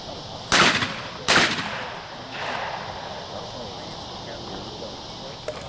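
Two sharp, loud 12-gauge shotgun blasts ring out about a second apart at an outdoor clay shooting competition, each trailing off into echo, followed by quieter background noise and distant voices.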